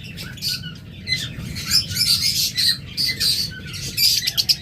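Lutino Fischer's lovebirds, a bonded pair, squawk and chirp in rapid, overlapping bursts of loud shrill calls, close by and continuous, with no talking.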